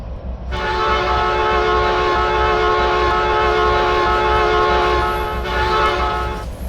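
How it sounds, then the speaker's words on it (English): A loud, sustained train horn in a train simulator game blares for several seconds at a crossing over the rumble of a passing train, then cuts off as the rumble continues. "See the train come through the crossing here in a moment."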